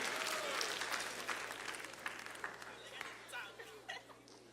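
A youth summit crowd applauds, a broad clapping wash that starts strong and gradually thins, with scattered chatter and chuckles mixed in and a steady low hum underneath.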